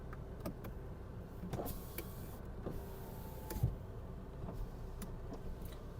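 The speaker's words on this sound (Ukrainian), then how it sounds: "По електриці склопідйомники працюють" Electric power window motor on a Volkswagen Golf 4, running in a few short bursts with clicks and thumps, fairly quiet and close inside the car, alone without talk.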